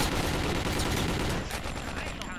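Dense, continuous gunfire from the Call of Duty WW2 video game, a loud, rapid burst-like barrage filling the whole stretch and easing slightly toward the end, with faint talk underneath.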